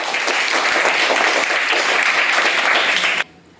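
Schoolchildren at a primary school quiz give a contestant a burst of loud, dense applause lasting about three seconds, then it stops abruptly.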